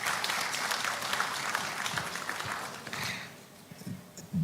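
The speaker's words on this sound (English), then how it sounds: "Let's acknowledge him with a round of applause." A crowd at a national AI strategy launch in Ghana gives a round of applause for a regional chief, brisk clapping that thins out and dies away after about three seconds, leaving a few scattered taps.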